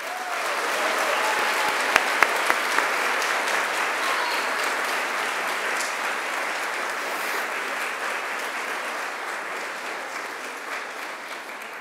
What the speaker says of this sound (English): And now I invite you to give them an almighty round of applause.